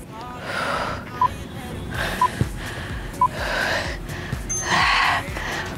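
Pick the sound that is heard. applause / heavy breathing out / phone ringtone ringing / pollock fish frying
heavy breathing out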